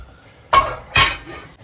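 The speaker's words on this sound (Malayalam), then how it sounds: "ഇതിലേക്ക് നമുക്ക് ഫ്രൈ ചെയ്ത് വെച്ച ചിക്കന് ആഡ് ചെയ്ത് കൊടുക്കാം" Fried chicken pieces dropped into a cooking pot of boiling liquid, two quick clattering clinks and splashes close by with no voices.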